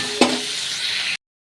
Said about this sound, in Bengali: আর এর মধ্যে হলুদটাও দিয়ে দেবো, দিয়ে এটাকে সুন্দর করে ভেজে নেব।